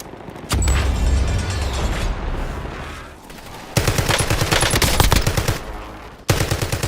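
A video game gun fires long, loud bursts of rapid automatic shots, with a heavy booming opening, a short pause, then fast clattering volleys and a final burst.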